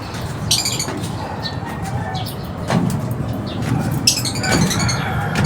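African lovebirds and pigeons on a rooftop give scattered chirps, squawks and wing flaps, close and moderately loud against a steady outdoor background hum.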